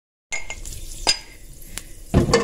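Ginger garlic paste hits hot oil with fenugreek seeds, bursting into a loud sizzle with a few sharp spoon scrapes and clinks against the pan.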